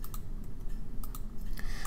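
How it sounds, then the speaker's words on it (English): Computer keyboard keys tapped during 3D print editing, a few light, scattered clicks in irregular bursts over a low background hum, close by and without speech. "hit the delete key on my keyboard"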